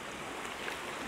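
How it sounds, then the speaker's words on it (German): Soft, continuous wash of small waves lapping around a floating tree trunk in shallow water, faint and close, with no voices. "alle 3 Sekunden kommt eine Welle an"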